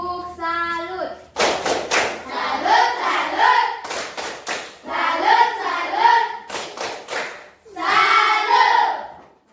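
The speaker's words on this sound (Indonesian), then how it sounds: "Kita tepuk salut untuk teman kita." A standing school class gives a rhythmic salute clap for a classmate: loud bursts of patterned clapping alternate with children's chanting and speech, in a lively close room.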